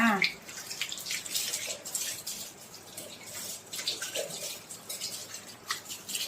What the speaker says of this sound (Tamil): நான் இப்படிதான் ஊத்தி கழுவோம்